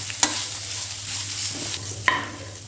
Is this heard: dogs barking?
no